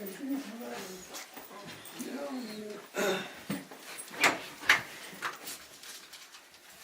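A small female dog whimpers and yips softly under a man's speech indoors, with faint panting and a few sharper high cries near the end.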